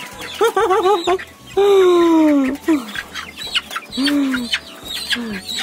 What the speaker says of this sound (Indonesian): Siusnya Bang Ade nangkap ayam.